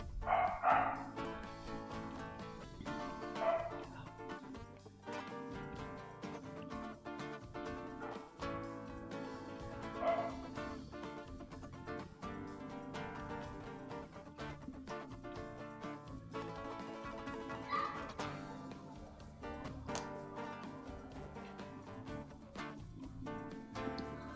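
Poodles bark in short bursts at a dog grooming competition, with a few scattered barks over steady background music.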